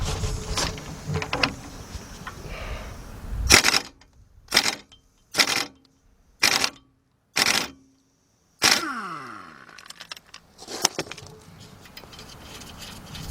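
Impact wrench tightening a front strut bolt on a 2001 Ford Windstar, firing in about six short, loud, close bursts separated by brief silences, with no one talking.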